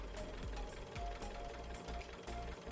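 A silage bale wrapping implement runs in Farming Simulator 19 with a faint, steady mechanical whir and quick rhythmic clicking, an even chatter with no breaks.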